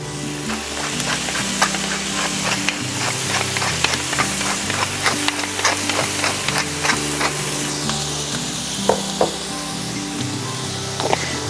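Pork frying with softened onions in a pan for Filipino pinakbet sizzles steadily, with scattered clicks and scrapes of stirring throughout.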